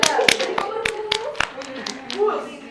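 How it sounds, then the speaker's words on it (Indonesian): Classroom applause for a student group, quick scattered hand claps from a few people that come unevenly for about three seconds, with children's voices mixed in. "beri tepuk tangan untuk kelompok"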